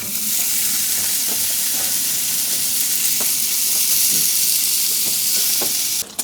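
Bacon sizzles and spits steadily in a GOSO camping pan outdoors, a continuous loud frying hiss broken by small pops and crackles, with a brief clatter right at the end.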